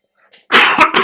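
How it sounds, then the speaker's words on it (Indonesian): A short, harsh cough, loud and close, with a quick double burst after a faint breath, heard during a talk about earthquake reports. "batuk."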